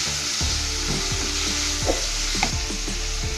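Onions and green chillies fry in a pan while being stirred, giving a steady sizzle over a low hum with repeated soft scraping knocks, close by and with no talking.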